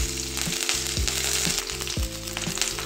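Finely chopped ginger fries in a pan for palmyra sprout upma, a bright crackling sizzle that carries over a low droning hum swelling and dipping about every half second.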